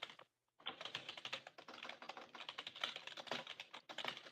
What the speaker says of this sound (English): Someone's vigorously typing.